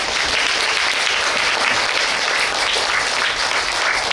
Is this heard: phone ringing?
no